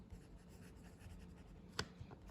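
Majohn (Moonman) P136 fountain pen with a steel medium nib writing on paper, a faint soft scratching across the page with one brief sharper tap, close and quiet.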